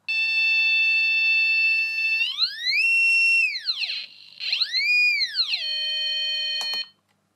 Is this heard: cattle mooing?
no